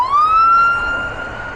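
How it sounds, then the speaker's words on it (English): A fire truck siren on a Brooklyn street in Sheepshead Bay gives one loud, close rising wail that holds steady and then fades slightly as the truck passes, with no talking. "We just had a battalion go by, and we had a couple of fire trucks."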